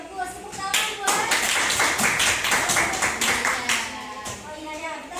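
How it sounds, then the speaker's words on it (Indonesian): Classroom audience applauding during a micro-teaching lesson, a steady patter of many hands clapping close by for about five seconds, with a voice briefly heard under it. "Tepuk tangan buat."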